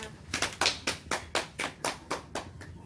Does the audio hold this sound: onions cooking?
no